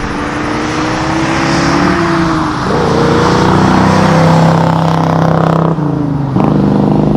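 A big-block V8 in a 1967 Ford Mustang Fastback Cobra Jet revs hard and steadily, deep and loud, with the pitch rising and dipping through the throttle blips near the end.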